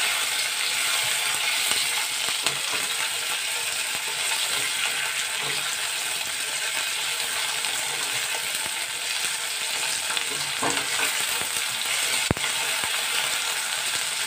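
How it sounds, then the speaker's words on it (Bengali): Paneer-dish vegetables fry lightly in oil in a kadhai, giving a steady, even sizzle that stays at the same level throughout, with a few faint clicks and a sharp tap near the end. "এগুলো সামান্য একটু ফ্রাই করে নেব।"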